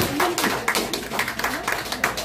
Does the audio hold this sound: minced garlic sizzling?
no